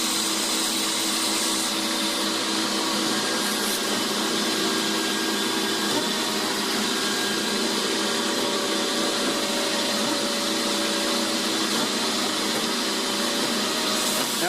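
A Marvel V110A automatic bandsaw, refurbished, runs continuously and loudly, a steady whirring motor drone with a faint cutting hum and a few small shifts in tone.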